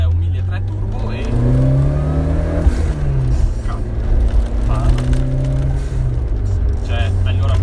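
A Fiat Uno Turbo i.e. with a 1.3 turbo engine accelerates on a long straight, its engine note rising and falling through several gear changes, heard from inside the car while a voice talks over it.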